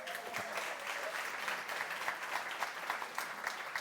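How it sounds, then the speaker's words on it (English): An audience at a community-sector conference's closing plenary gives a speaker a sustained, dense round of applause that holds steady and fairly loud throughout, with no talking over it. "We'll give Naomi another round of applause."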